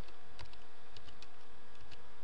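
Rapid typing on a computer keyboard, a steady run of close, crisp key clicks with faint background hum.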